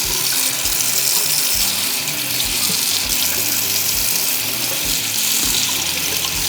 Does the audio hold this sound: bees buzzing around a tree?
no